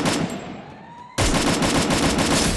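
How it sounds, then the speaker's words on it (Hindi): Gunfire rings out in the battle royale game Garena Free Fire, first a fading shot tail, then a sudden loud, dense burst of rapid automatic fire that sustains to the end, close and without talk. "हेड शॉट भाई आज तो सिर्फ हेड शॉट ही हेड शॉट मार रहे"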